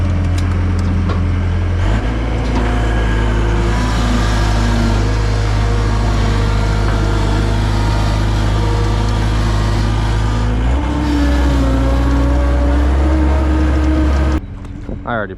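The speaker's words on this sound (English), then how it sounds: "gonna get in the skid steer, get it up to where we're working" A skid steer's diesel engine runs steadily at close range, rumbling loudly with a shift in pitch as it drives and a sudden drop at the end.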